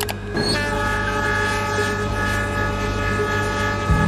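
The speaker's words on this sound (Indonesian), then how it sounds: "Dan beberapa detik kemudian kereta pun lewat." A train rolls past a railway crossing, its horn blaring in a loud, sustained, steady tone over the rumble of the cars for several seconds, close and dominant, with no voices.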